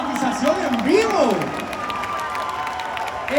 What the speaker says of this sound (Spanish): Fuerte el aplauso, estamos viendo la dramatización en vivo.